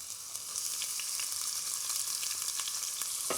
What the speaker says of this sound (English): It's a good sizzle.